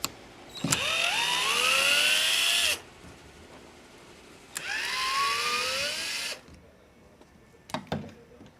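An electric screwdriver backs screws out of a wooden crate in two long, loud whirring bursts that rise in pitch as each one spins up, followed by a few short clicks and knocks of handling.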